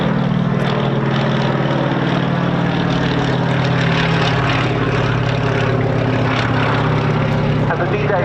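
A Chinook helicopter flies at the RAF Cosford air show, its rotors and engines making a loud, steady, throbbing drone that holds without a break throughout.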